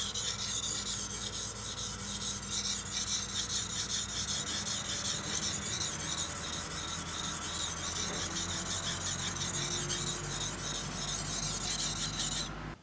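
A knife blade rubs steadily across a fine 8000-grit whetstone in a close, continuous rasping scrape with faint rhythmic strokes, alone without talk.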